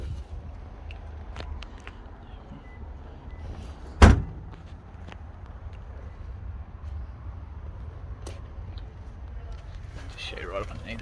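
A boot floor cover in a 2017 Toyota Camry RZ is lowered over the spare tyre and lands with a single sharp thud, surrounded by quiet background and a few faint knocks.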